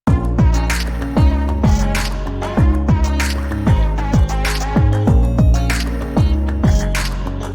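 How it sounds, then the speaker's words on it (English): Pop rock mix of ambient synths, guitars and bass driven by a steady punchy kick beat, full and loud throughout with no vocals or talking. "So with the synths, the guitars, and the bass now, it sounds like this."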